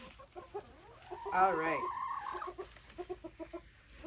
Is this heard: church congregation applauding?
no